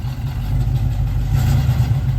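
A 1978 Chevrolet Nova, its ignition timing just corrected, idles in a short, steady, close low rumble with no other sounds.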